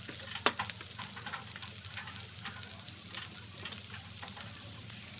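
Kikiam and chicken balls sautéing in a pan for pancit bihon, a steady close sizzle with a sharp clink of a utensil near the start and no talking.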